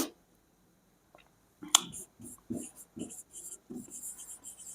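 Marker or chalk writing on a classroom board during an English lesson, a series of short, quick scratching strokes in rhythmic bursts after a brief pause, close and clear with no speech.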